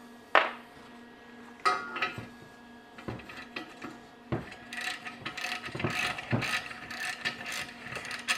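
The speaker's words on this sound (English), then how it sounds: "The more you run these bolts in and out, the easier it's going to get to take this thing apart." A ratchet clicks in bursts while bolts are run in and out on the custom bagged rear suspension of a 1949 Plymouth, with sharp pawl clicks and metallic clanks close by in a workshop.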